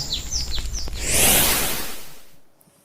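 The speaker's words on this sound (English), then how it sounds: "Sometimes I hear the same birds singing from past weeks," A few short descending bird chirps repeat at the start on the east coast of Guam, then a broad rushing whoosh swells and fades away into quiet.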